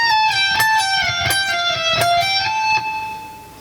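Electric guitar playing a descending trill of hammer-ons high on the neck, bright sustained notes with rhythmic plucked attacks, close and clean, fading at the end.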